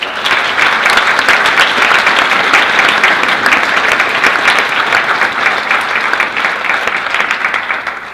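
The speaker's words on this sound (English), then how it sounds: "So let's please give them a round of applause." A Model UN keynote crowd gives maintenance and janitorial staff a long, loud round of applause, dense continuous clapping from many people that holds steady throughout.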